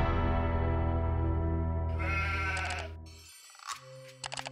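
Sheep bleating, one long wavering bleat followed by several shorter, sharper bleats, fairly near and slightly echoey, with no talking.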